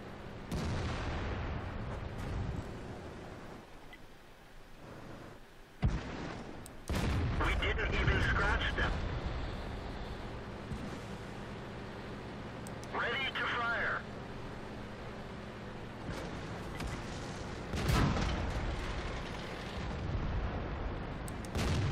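Artillery fire in World of Tanks, with a T32 tank on the Prokhorovka map: several heavy booming blasts land several seconds apart over a constant engine rumble, while players talk over the battle.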